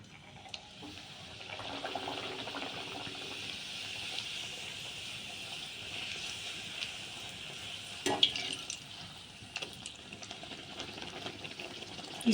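Kachori frying in hot oil, a continuous soft sizzle and bubbling hiss that holds steady, with a few brief clinks and splashes near the end.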